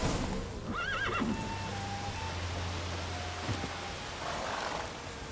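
A horse in The Witcher 3 gives a clear, wavering whinny near the start, heard close and loud over steady rain-like ambience and low background tones.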